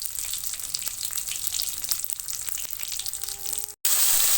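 Vegetables sizzle in a hot wok with the oil left from frying fish, a continuous loud crackling hiss broken briefly near the end by a moment of silence before it resumes.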